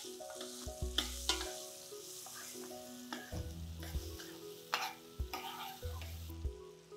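Onion pieces fry in oil with a pinch of turmeric, a soft steady sizzle with stirring scrapes and a few louder clatters, close and alone.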